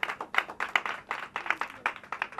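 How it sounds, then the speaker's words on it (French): Studio audience applauding on a French TV programme, a steady burst of many hands clapping together at close range, with no voices over it. "Merci quand même de l'applaudir."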